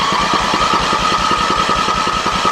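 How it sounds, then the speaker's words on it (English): A Terramite backhoe engine cranks cold with a dry cylinder during a compression test, giving a steady, rapid chugging pulse with a constant mechanical whine, loud and close throughout with no talking. "now this is on a cold engine as well, and the cylinder is also dry"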